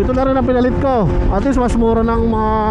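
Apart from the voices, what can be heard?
None of the usual background noises is heard.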